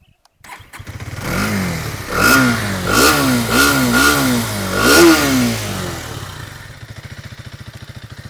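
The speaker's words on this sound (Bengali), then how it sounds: "এক্সস্টের সাউন্ডটা আপনারা মোটামুটি শুনলেন" A 2025 Hero Xtreme 250R motorcycle starts up close by, then revs its exhaust through several rising and falling throttle blips before settling into an even, throbbing idle.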